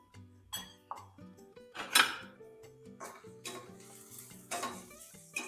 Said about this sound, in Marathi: चवीनुसार मीठ, हळद, अर्धा चमचा धना पावडर व बेसन घालून मिक्स करून घेऊ